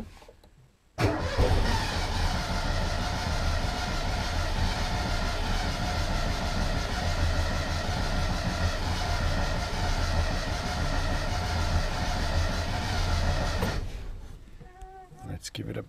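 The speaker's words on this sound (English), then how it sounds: "So let's try to start it." Citroën 2CV engine cranking with an empty float bowl, a loud steady whirring churn from the starter that runs for about thirteen seconds without catching, then cuts off, followed by a brief quiet pause.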